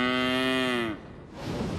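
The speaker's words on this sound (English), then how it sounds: "But it was just a cow in the field." A cow in a field lets out one long, loud, steady moo that fades after about a second, followed by a rushing background noise.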